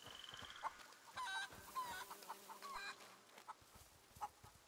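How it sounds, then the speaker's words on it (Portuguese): Chickens cluck in A Plague Tale: Innocence, with short bursts of clucking and squawks spread across the clip over a quiet in-game background, fairly close. "Tirando essas galinhas e o pato."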